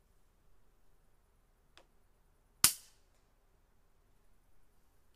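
A Taipan Veteran shorty .22 air rifle fires one sharp, loud crack that decays quickly, preceded by a faint click, in an otherwise quiet setting at close range.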